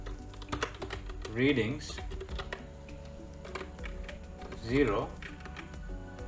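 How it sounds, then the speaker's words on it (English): Code typed on a computer keyboard, a steady run of light key clicks throughout, heard beneath someone speaking. "let's delete this code first and type accelerator"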